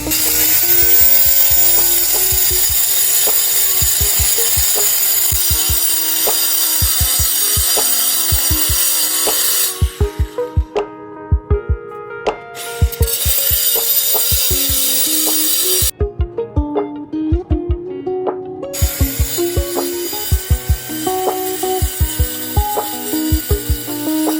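A power saw grinds steadily through wood, loud and close, cutting out briefly twice, with scattered knocks and rattles underneath and no voices.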